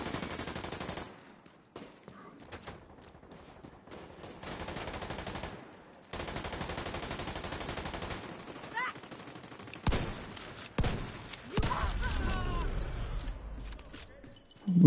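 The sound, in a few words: gunfire from enemies in a video game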